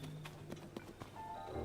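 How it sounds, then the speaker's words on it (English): A horse trots in the Zelda: Tears of the Kingdom video game, with quick, evenly spaced hoof clip-clops over a steady game music and ambience bed. "My horse!"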